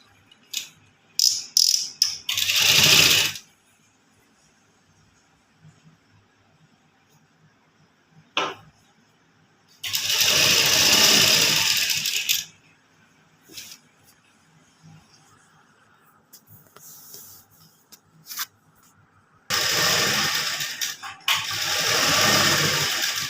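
A sewing machine stitches fabric for a kurta hem in short bursts, three longer runs and several brief stutters, with quiet gaps between them and no talking over the stitching.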